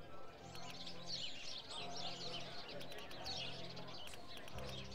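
Birds chirp and coo continuously through a village-building scene in the video game Colonize Prologue, with bright tweets layered over a low ambient hum while a person talks over it.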